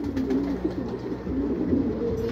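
Racing pigeons return to the loft during a 162 km training race, low cooing carrying through at close range while birds come in, with no talk in this short moment.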